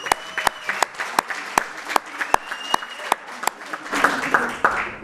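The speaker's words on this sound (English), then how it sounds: "Just a round of applause." Audience at a book launch in Soweto applauding, with sharp, regular handclaps standing out at first, then the clapping thickening into denser crowd applause toward the end.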